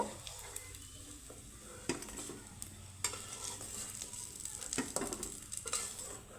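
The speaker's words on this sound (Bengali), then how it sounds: "বাকিগুলো একইভাবে আমি ভেজে তুলে নেবো" Soya chunks frying in hot oil, a steady sizzle with occasional clicks and scrapes from stirring in the pan.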